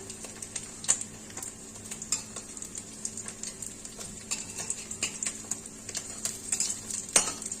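Fish pakoras fry in hot oil, a soft steady sizzle with occasional clinks and scrapes of a utensil against the pan, fairly quiet and with no talking.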